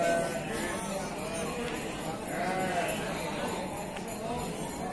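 Etawa crossbreed goats, kids of a Jawa Randu doe, bleat at the Wage livestock market in Bumiayu, with wavering calls over a dense crowd murmur and people talking nearby.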